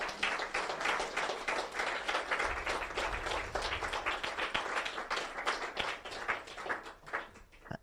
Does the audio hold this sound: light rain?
no